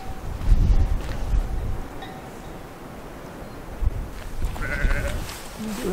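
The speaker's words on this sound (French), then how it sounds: "On a des moutons qui viennent droit sur nous." Sheep bleat nearby on a Greek island in a few short calls, with wind buffeting the microphone and brief voices in the background.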